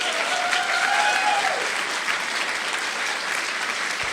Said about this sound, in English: Another round of applause for our candidates.